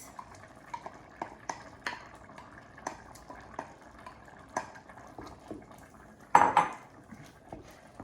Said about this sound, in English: Mix it around so it gets really creamy.